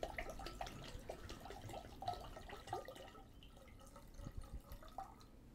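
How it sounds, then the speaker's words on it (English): Filtered water poured into a batched cocktail mix, faint close trickling and dripping with small liquid splashes, quiet and irregular, with no talking. "So I'm going to add 10 ounces of filtered water so we don't have to shake each individual cocktail"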